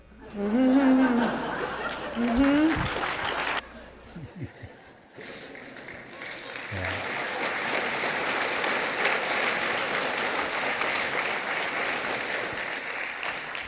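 A university lecture audience breaks into applause that builds into a sustained, dense wash after a few seconds of amplified speech and chuckling, then continues steadily at moderate volume.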